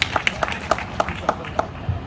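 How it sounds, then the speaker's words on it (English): At a farewell party, a small group claps to welcome a guest to the stage, sparse rhythmic hand claps with distinct individual hits, fairly close, with faint talk underneath. "Give a big applause to welcome Volpen to the stage."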